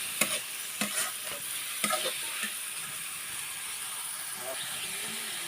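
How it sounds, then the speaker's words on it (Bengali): Small diced potatoes with garlic and ginger paste fry in a pan, a continuous sizzle broken by several scraping strokes of a spoon in the first two seconds, close by, with a voice speaking faintly over it. "এখন দিয়ে দিলাম রসুন, আদা বাটা দিয়ে আমি একটু ভালোভাবে নেড়ে নেব।"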